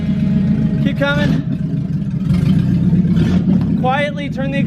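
A vehicle engine revs with a loud exhaust, a steady low growl rising in short bursts, while people talk over it nearby.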